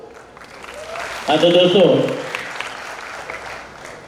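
An audience at a school function in Nilanga applauds steadily, with the clapping swelling and then fading, while someone speaks over it.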